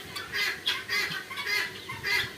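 Chickens clucking close by in short repeated bursts, several birds calling over one another with no voices.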